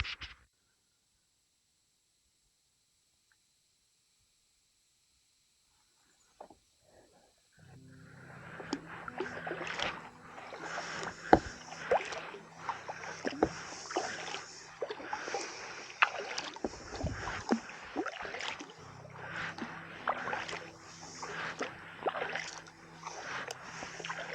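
A kayak paddled on a lake in Sweden, near-silence at first, then steady close paddle strokes with splashes and water sloshing for the remaining stretch.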